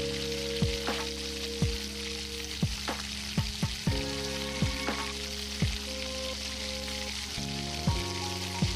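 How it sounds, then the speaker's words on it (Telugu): Cumin, fenugreek, green chili and onion frying in hot oil in a home kitchen, giving a steady close sizzle punctuated by regular stirring clicks and scrapes from a spoon against the pan. "కర్రీకి సరిపడా జీలకర్ర మెంతులు వేసేసుకొని పచ్చిమిర్చి, ఉల్లిపాయ ముక్కలు వేసేసుకుందామండి."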